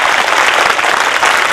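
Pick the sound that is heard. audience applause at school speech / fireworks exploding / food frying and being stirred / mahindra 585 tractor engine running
audience applause at school speech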